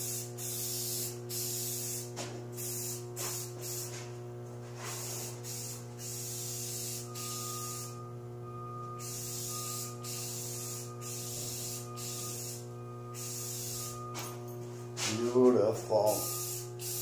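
Spray paint hisses in a steady, continuous coat over a backing plate inside a workshop, with a constant machine hum underneath and brief pauses between passes; faint handling noise near the end.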